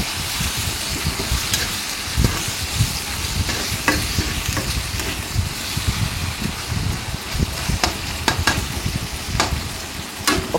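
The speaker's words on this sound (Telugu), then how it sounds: "ఇప్పుడు ఈ అల్లం వెల్లుల్లి పేస్ట్ ఆయిల్లో బాగా ఫ్రై అయ్యే విధంగా ఈ విధంగా కలుపుకోవాలండి" Ginger garlic paste frying in hot oil and stirred in a pan for an Andhra brinjal chicken curry, a dense continuous sizzle with occasional scraping strokes, close and loud, no talk.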